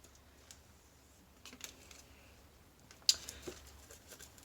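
Light typing on an Apple Magic Keyboard for the 2020 iPad Pro 11-inch, a few soft scattered key taps and one sharper click, close and quiet in a still room.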